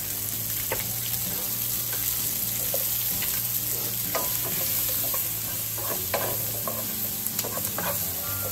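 Chicken strips for a keto stir fry sizzle steadily in a hot pan on the stove, a constant loud frying hiss with scattered pops and clicks of stirring throughout, no voices.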